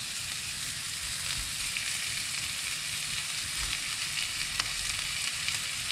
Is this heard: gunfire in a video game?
no